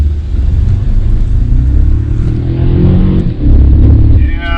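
A 2024 Toyota Tacoma pickup in sport mode accelerates hard from a standstill, its engine a loud, steady, close rumble that swells and drops briefly before surging again.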